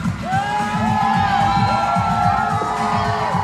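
Crowd cheering at an independent wrestling show for a masked wrestler, many children among them, loud steady roar with high shrill whoops and chanting-like pulses throughout.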